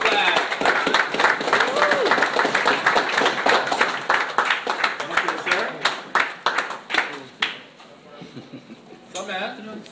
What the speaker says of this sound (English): Clap it up for Jack Splash.